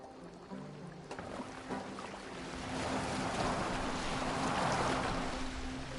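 A boat moving on water in Assassin's Creed Valhalla, with a steady wash of waves and splashing that swells louder midway, plus faint wind and a low background hum.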